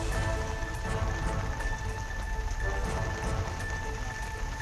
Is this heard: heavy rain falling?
yes